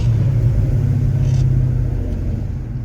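A 408W stroker V8 in an SN95 Mustang cruises steadily, heard from inside the car as a loud, constant low rumble without revving up.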